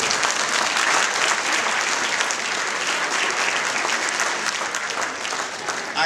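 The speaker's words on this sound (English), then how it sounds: "A round of applause, please." A gala audience at the fifth annual University of the West Indies Toronto benefit applauds, a dense, steady wash of many hands clapping that stays loud throughout with no pauses.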